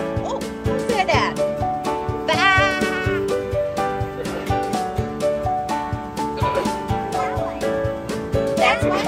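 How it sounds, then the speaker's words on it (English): Sheep at a county fair bleat repeatedly with wavering, nasal cries over a steady rhythmic backdrop, fairly close and loud. "Oh look, here's some more sheep!"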